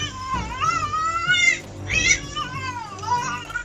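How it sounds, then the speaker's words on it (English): A cat trapped by its leg between wooden fence panels meows loudly several times in strained, wavering cries, close and clear with no other voices. "the cat meows a few times"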